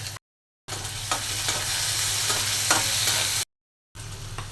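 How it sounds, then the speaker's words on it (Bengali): Onions frying in a pan as the base for a Bengali prawn bhuna, a steady close sizzle with a few stirring clicks, broken by two short silent gaps. "পেঁয়াজটা ভেজে নিচ্ছি চিংড়ি মাছের ভুনা করার জন্য"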